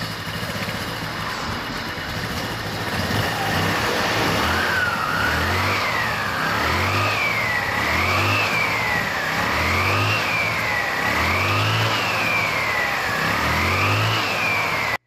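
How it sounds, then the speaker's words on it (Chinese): A motor scooter with a continuously variable transmission idles, then its engine revs up and down again and again as the throttle opens. The rhythmic, loud revving stands alone and close. "接下来要加油了"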